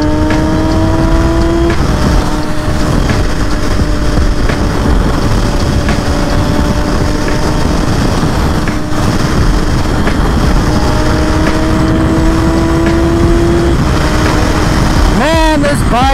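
A Suzuki GSX-R 750 sport motorcycle out on a ride, its engine droning steadily under heavy wind rush, the pitch climbing slowly and dropping with a quick rev change near the end.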